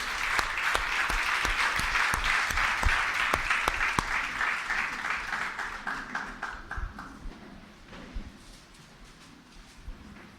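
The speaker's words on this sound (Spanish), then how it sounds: "Brinden un fuerte aplauso a Jesús." A church congregation applauds loudly in a thick, sustained roar of clapping that gradually thins into scattered individual claps and trails off toward the end.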